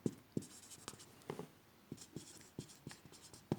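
Pen writing by hand on paper during an accounting lesson, a quiet series of short scratchy strokes and taps in an irregular rhythm, close and faint, with no talking.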